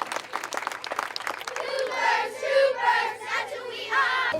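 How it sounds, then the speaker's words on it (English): A live audience claps and cheers after being asked to applaud a group of street-safety volunteers in New York City, the clapping sharp and scattered at first, then giving way to louder whoops and crowd voices. "give them a round of applause"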